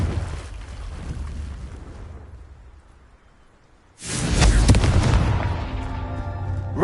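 A Confringo fire spell blast in Hogwarts Legacy bursts out loud and broadband after a quieter, fading stretch, then keeps roaring with a dense crackling rumble to the end.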